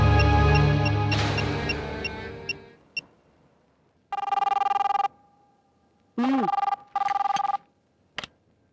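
A telephone is dialled to place a call in a film scene: a fading ring, then a couple of clicks, followed by separated bursts of steady electronic beeping tones and a final click, with no talk.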